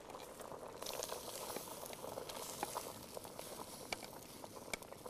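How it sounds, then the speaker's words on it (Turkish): A cooking pot of water at a steady, vigorous boil gives off continuous bubbling and crackling patter, close and moderately loud, with no voices over it. "Suyun iyice kaynaması gerekiyor."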